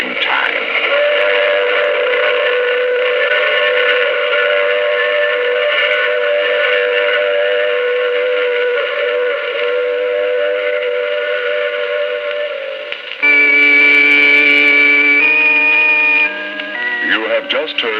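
Steam train whistle from a radio drama, a long steady sustained tone for several seconds, then a louder higher-pitched blast near the end, with no voices over it.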